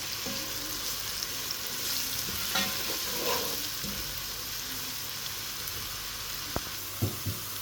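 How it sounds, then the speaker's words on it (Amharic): Onions frying in hot oil in a pot for an Ethiopian okra and meat stew, a steady even hiss with faint stirring rustles and a couple of sharp knocks near the end, no talk. "ከዛ ትንሽ ዘይት ይሞቅና ሽንኩርቱን እንጨምራለን።"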